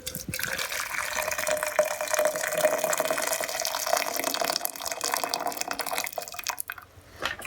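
Water at a rolling boil while a VW T25 cooling thermostat is tested in it, giving a steady, close, broadband bubbling rush that fades slightly near the end, with no talking.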